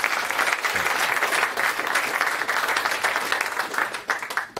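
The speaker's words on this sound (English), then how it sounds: "So a big round of applause." Dense, steady applause from a conference audience welcoming a speaker to a talk on Python and Rust in Mercurial, a full room clapping evenly and continuously at fairly loud volume, with no speech.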